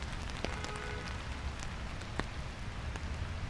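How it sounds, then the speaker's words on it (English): Heavy rain pours steadily during a Miami thunderstorm, a dense continuous hiss of drops striking surfaces nearby, with a few sharper drip impacts standing out. "the rain's getting heavy again"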